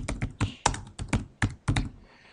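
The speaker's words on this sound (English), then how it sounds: "I'm going to type healthy eating." About eight crisp, close keystrokes tap out on a computer keyboard in an uneven rhythm, the clacks spaced a fraction of a second apart before stopping, with no talk.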